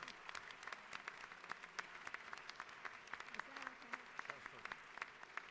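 Applause rings through the Georgia House chamber during a legislative session, a soft, steady patter of many hands heard from some distance, with a brief spoken question over it.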